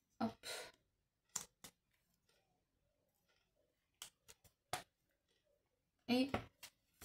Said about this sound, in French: je coupe ce qui est beaucoup trop long